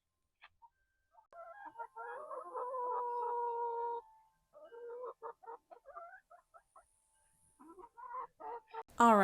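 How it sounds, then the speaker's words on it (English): Backyard chickens cluck in quiet, scattered bursts, with a longer run of calls early on and short clucks trailing off, heard fairly faintly with no one talking. "let's just go check on the chickens real quick, because that's always fun to give them treats"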